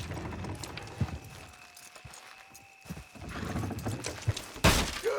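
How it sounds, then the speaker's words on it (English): Horses in Red Dead Redemption 2 strain to pull a structure down: hoofbeats and horse snorts and whinnies over a rumbling game soundscape, ending in a loud, sharp crashing burst near the close. "Horses will pull it clean down"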